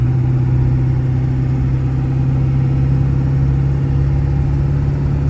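A 1996 Ford F250 XLT pickup with the 7.3 PowerStroke turbo diesel runs steadily, giving a loud, close, continuous low droning rumble with an even, unchanging level throughout.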